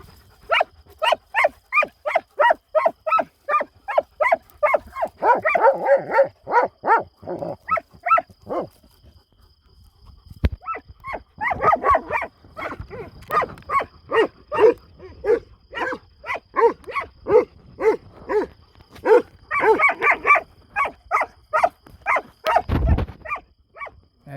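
Large Kangal dogs bark in a long, rapid, steady series close by at night on a farm, with a few whining, whimpering sounds mixed in and a brief pause midway.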